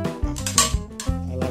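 Two Comet non-stick frying pans are handled up close, giving a quick series of metallic clanks and ringing knocks as they bump and are set down, with no talking.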